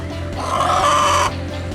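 Chickens clucking and squawking in a backyard, a steady run of close fowl calls with a louder, denser burst in the middle before settling back to softer clucks.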